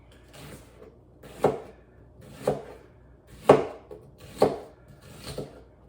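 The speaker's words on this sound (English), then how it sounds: "I am just kind of slicing them like you would lime slices if you ever worked a bar" Knife strokes through vegetables onto a cutting board, six separate firm chops spaced about a second apart, close and clear with no talking.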